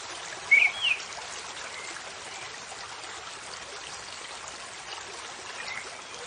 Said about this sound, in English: its dark water rushing over the smooth, large